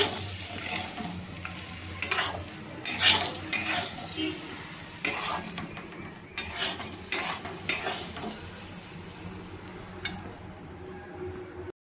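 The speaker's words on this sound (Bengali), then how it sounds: "এবার আমি ভালোভাবে নাড়িয়ে নেব। আবার এগুলো দিয়ে ভালোভাবে ভেজে নেব।" Rice with fried cashews and raisins is stirred in a hot pan, a spatula scraping and clanking against the metal in repeated bursts over a soft continuous sizzle.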